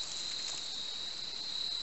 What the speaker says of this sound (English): Crickets have come out early.